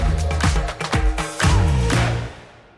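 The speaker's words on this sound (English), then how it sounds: "Add the reverb onto that last bit of the clip" A burst of music ends and its final notes ring out, trailing off in a smooth reverberant echo that fades to near silence.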